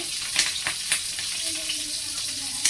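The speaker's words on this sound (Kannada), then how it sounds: "ಜೀರಿಗೆ ಸ್ವಲ್ಪ ಜಾಸ್ತಿನೇ ಜೀರಿಗೆ ಹಾಕೊಂಡಿದ್ದೀನಿ ಹಾಗೆಯೇ ಒಂದಿಷ್ಟು ಬೇವಿನ ಎಲೆ" Cumin seeds, mustard seeds and neem leaves sizzling in hot oil while tempering, a steady crackling hiss with a few sharp pops, close and fairly quiet.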